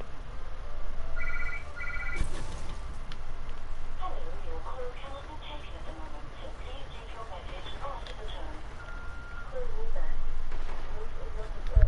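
A brief trilling phone ring sounds once early in an arena video game, followed by heavy booming, gunfire-like game noise and some voice.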